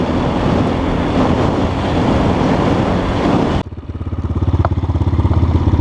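Enduro motorcycle engine, loud and close, roaring under heavy throttle, then abruptly dropping to a rhythmic, pulsing revving that climbs in steady bursts.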